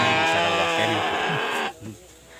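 A farm sheep bleats loudly and close by, one long wavering call that breaks off and is followed by a shorter, fainter bleat.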